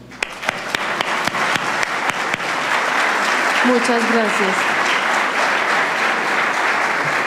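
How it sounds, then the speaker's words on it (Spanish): Audience applauding panelists at a Spanish-language conference on innovation policy financing, a few separate claps growing into steady, dense applause, with a voice briefly speaking over it. "para quienes pido por favor un aplauso"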